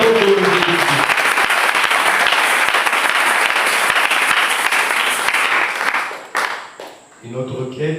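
A church congregation applauds loudly and steadily in a dense wash of claps, with voices speaking briefly at the start and again as the clapping fades near the end.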